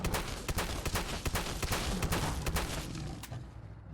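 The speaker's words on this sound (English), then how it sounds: "let's see how this revolving shotgun does. Let's test it out on this Deathclaw" Rapid, loud bursts from a revolving makeshift shotgun firing at a Deathclaw in Fallout 4. The blasts come in a dense, rhythmic series that lasts about three seconds and then stops abruptly, with no talking.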